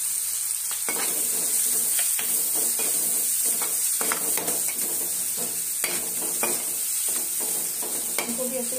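Turmeric, coriander and chili powder fry with onion and tomato in a pan, a dense, constant sizzle close by, overlaid with repeated scraping stirs of a spoon.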